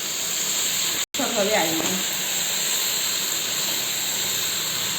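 Marinated chicken sizzles in a hot pan with a steady, loud hiss throughout, broken by one brief dropout. A voice speaks briefly over it.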